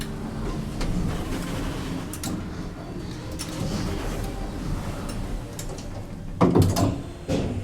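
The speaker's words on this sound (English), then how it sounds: "Nice Schindler door motor as well. It's hydraulic." A Schindler hydraulic lift runs its door motor, giving a steady mechanical hum with sliding rumble and a sharper clunk near the end as the doors move.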